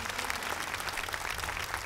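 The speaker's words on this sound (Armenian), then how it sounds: "եկեք բարձր ծափարենք" Studio audience applauding at a televised Armenian singing competition gala show: dense, steady clapping from a large crowd that holds at an even level throughout, with no clear voices on top.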